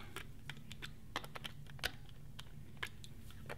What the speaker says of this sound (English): we simply unscrew the back